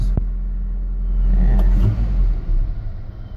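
Car engine fitted with a Weber 32/36 carburetor, being tuned for fast idle, runs at a close, loud idle and gets a short blip of throttle that swells into a deep rumble and settles back down.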